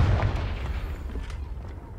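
A Confringo blasting spell goes off in Hogwarts Legacy as a deep booming explosion with a rumbling roar that lingers and fades over a couple of seconds.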